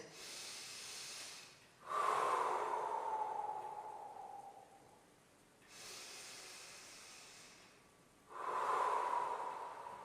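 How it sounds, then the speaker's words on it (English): Deep exercise breathing during a knee workout routine, with long broadband breath cycles rising and falling in a steady alternating rhythm, close and clear with no talking. "Breathing, 5 breathing cycles committed."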